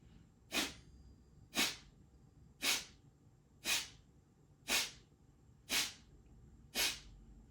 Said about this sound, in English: exhaling very sharply through the nostrils